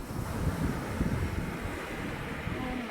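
Sea waves wash steadily onto a beach, a continuous rushing surf with wind buffeting the microphone, close and fairly loud, with no voices.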